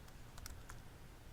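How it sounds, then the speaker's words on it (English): Quick, faint clicks of keys pressed on a graphing calculator keypad, a few close taps in rapid succession over a soft background hiss. "So we hit the table button on the calculator. Just going to clear that guy out and start typing."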